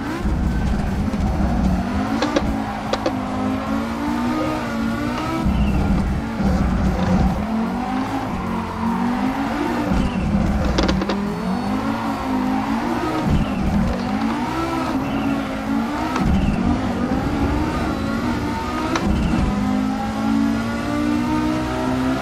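A Group B rally car in a sim racing game roars through a pendulum turn, its engine revving hard and continuously with rising and falling pitch, brief tyre squeals and skids, loud and close throughout.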